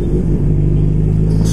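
A Honda Hornet 250 cc four-cylinder motorcycle engine runs with a steady, loud low rumble close by, holding an even idle-like drone throughout with no voices.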